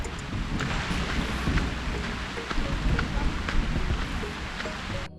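Steady storm rain patters continuously across the whole stretch in a forest, a dense wash of drops with no voices standing out.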